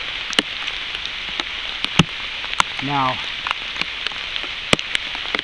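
Steady pouring rain outdoors in roughly 50-degree weather, a constant close hiss of drops with sharp individual drips and taps cutting through, while someone speaks briefly partway through.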